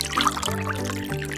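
Water for boiling shrimp pours in a short, steady trickle into a vessel, close and clear, with a tonal ring that rises slightly as it fills.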